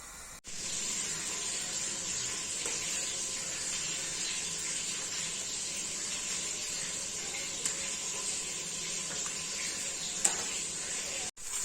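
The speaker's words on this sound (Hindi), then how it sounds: "इसमें हमें ये रफली चॉप किए हुए प्याज डाल देने हैं, इनको हल्का सा फ्राई करते हैं।" Roughly chopped onions fry lightly in a pressure cooker while potato and eggplant sabzi is being made, giving a steady, even sizzle and hiss that holds throughout at close range, with a couple of faint clicks.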